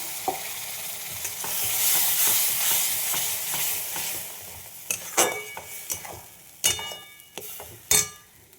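Mutton frying with a spice paste in a pan, steady loud sizzle under repeated scraping stirs and sharp clinks of a spoon against the pot, no voices.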